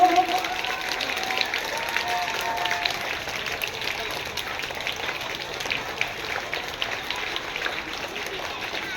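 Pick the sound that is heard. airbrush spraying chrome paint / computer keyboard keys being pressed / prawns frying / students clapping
students clapping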